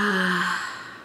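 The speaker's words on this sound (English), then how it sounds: "Take a deep inhale and exhale through your mouth." A slow, deep breath drawn in and let out through the mouth during a guided meditation for pain relief, heard up close and alone as a soft airy rush that fades away.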